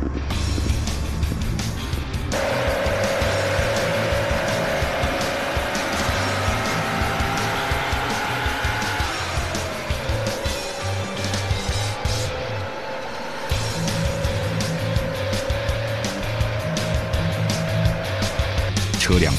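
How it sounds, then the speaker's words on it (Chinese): A military truck towing a trailer of nearly 20 metres drives at speed on a closed road, its engine a steady loud drone with rising and falling pitch as it accelerates and turns, while a narrator talks over it. "车辆发动，将近20米的拖车高速前进"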